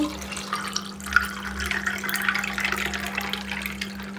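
Water is poured into a glass for a cold drink made in a fireless cooking challenge, a steady close trickling splash that runs for a few seconds under a low electrical hum.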